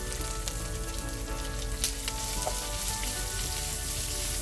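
Chopped onions sizzle and fry in a hot pan with whole peppercorns and fennel seeds, a steady close crackle with scattered pops and no voices.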